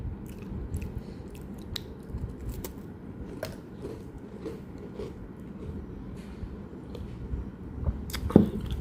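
Close crunchy chewing of Tiger biscuits, steady soft bites and mastication continuing throughout, with a sharper crunch near the end.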